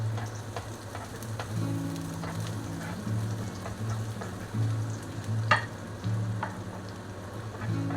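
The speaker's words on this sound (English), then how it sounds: "We put garlic, spring onion and a carrot and fry for 10 seconds." Garlic, spring onion and carrot sizzle steadily in hot oil while being stirred, with a low mechanical hum running underneath throughout.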